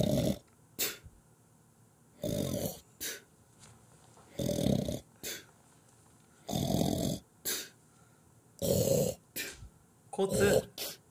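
A person imitates snoring: loud, close, rasping snorts that repeat roughly every two seconds with quiet gaps between them.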